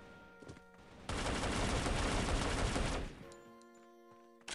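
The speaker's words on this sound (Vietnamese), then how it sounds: "Khẩu lục này bắn phê phết đấy." A sustained burst of rapid pistol fire in CrossFire Mobile lasts about two seconds, loud and dense, with game music and effects before and after.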